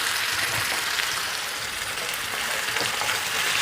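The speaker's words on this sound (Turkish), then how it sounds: "Şimdi bir tane büyük boy küp küp doğranmış domates ilave ediyorum." Diced tomato drops into onions and peppers sautéing in a pan, giving a steady, close frying sizzle with a few sharper crackles and no voices.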